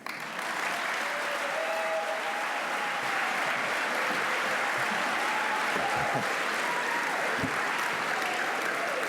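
Audience applause at an awards event in Minneapolis, steady and sustained for about nine seconds, dense clapping from a large indoor crowd with no talking over it.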